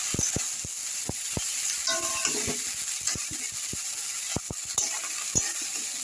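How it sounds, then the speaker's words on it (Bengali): Oil sizzles steadily in a pan with scattered sharp clicks and scrapes of stirring; no voices. "ফুলগুলোকে এখন আমি একসাথে ভাজা করি।"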